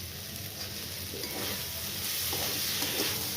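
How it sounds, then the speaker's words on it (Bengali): Raw oil drizzled from above into a pan of potato curry (aloo googly) being fried, giving a soft continuous sizzle with light stirring scrapes, fairly quiet and steady with no talk. "আমি অল্প উপর থেকে কাঁচা তেল দিয়ে দিচ্ছি"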